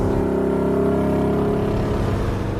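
A 1967 Pontiac Firebird engine revving loudly while driving, a deep, rough rumble with strong low harmonics that swells and holds steady, close and dominant with no talking over it.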